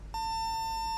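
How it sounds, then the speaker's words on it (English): Remote audio distraction alarm from the Hitman video game, a steady electronic beeping tone that starts after a brief pause and holds loud and continuous to the end, alone without speech. "So I thought I could use this remote audio distraction"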